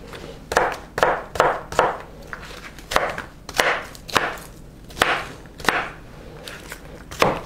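A knife chops red onion on a cutting board in quick, crisp knocks, about a dozen sharp close strikes in uneven bursts, with short pauses between them.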